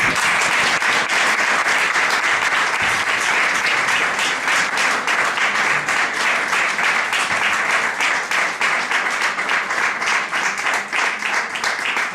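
An audience applauds steadily for a prize winner at a school short-story award ceremony, dense sustained clapping throughout with no talking over it.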